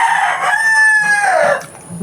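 A rooster crows loudly and close by, with hens clucking around it.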